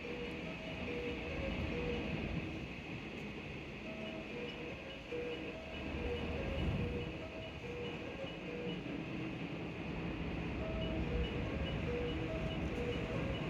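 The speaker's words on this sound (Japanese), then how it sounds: "でもなんかまた電車通過するって。" A Japanese freight train rolls past nearby with a continuous rumble of wheels on rails and a steady mechanical drone, plus faint intermittent tonal squeals from the wagons, without speech.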